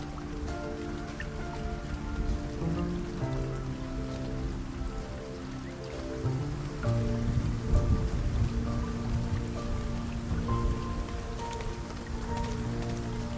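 Steady rain in a night city scene from the World of Goo 2 game cinematic, a constant patter of raindrops on surfaces under low sustained tones, unbroken for the whole stretch.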